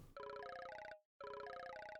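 A story game's phone rings for an incoming call in two clean bursts of a trilling electronic bell, the second after a brief gap, clear and close with no talking.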